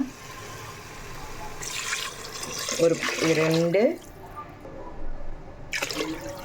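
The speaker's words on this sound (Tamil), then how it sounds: "மொத்தமாக 3 படி அளவு தண்ணி வச்சாச்சு" Water poured into a pot of rice for a mutton rib biryani, splashing and gurgling for about a second, with a voice speaking briefly before and after over quiet kitchen background.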